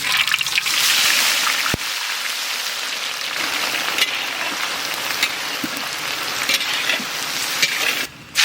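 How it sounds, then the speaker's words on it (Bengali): Onions fry in a pan with a loud continuous sizzle like rain on a surface, a sharp clack early on and occasional stirring scrapes, no talking. "পেঁয়াজ সুন্দরভাবে ভাজা ভাজা হয়ে গেছে"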